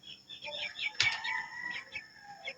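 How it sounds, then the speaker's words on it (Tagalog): Rooster crowing and chickens clucking in a rural yard, a loud close crow cutting in among busy, continuous clucks and cackles, with no talk over them. "Ay, mga manok. Ayan guys, yung manok namin eh."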